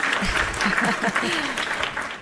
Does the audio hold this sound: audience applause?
yes